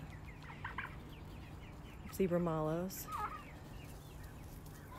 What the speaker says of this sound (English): turkeys, silly turkeys.